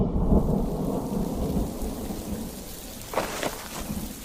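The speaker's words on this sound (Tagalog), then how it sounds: "Lalo na't dumadagundong ang kulog sa labas," Thunder rumbles loudly outside through a steady downpour of rain on a night in the countryside, a deep roll fading under the hiss before brief crackling bursts near the end.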